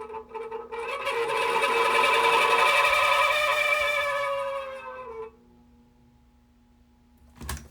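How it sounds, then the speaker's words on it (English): An electric fan with bad, dry bearings runs with a loud, rough buzzing whine that swells and then fades as it spins down, followed by a short knock at the end. "You never want to run a fan too long like this because that could mess up the bearings."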